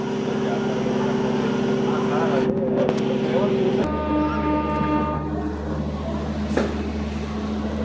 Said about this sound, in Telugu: విజయవాడ నుంచి మన ట్రైన్ ఆన్ టైమే కదిలింది.